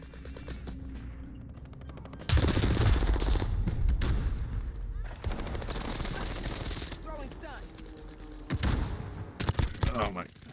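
Gunfire in a first-person shooter video game, including pistol shots, comes in loud, close bursts and rapid volleys separated by quieter gaps, with a sharp final cluster of shots near the end.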